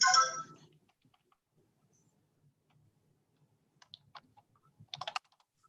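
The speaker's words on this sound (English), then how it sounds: "I'm typing that in as well." Short bursts of computer-keyboard typing during an online board meeting, a few scattered keystrokes followed by a quick cluster of clicks, faint and close after a brief louder noise at the start.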